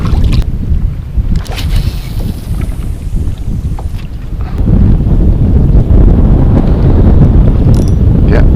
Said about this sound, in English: God, the wind's got so strong, it's really hard to tell if I've got a fish on or not.